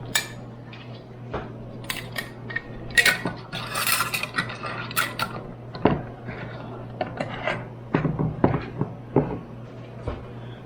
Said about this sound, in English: Let's get my lids over here.